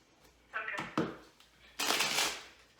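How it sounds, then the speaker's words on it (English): Tarot cards are shuffled in a few quick riffling bursts, close and fairly quiet, with short pauses between them. "I'm going to shuffle the cards a little bit more."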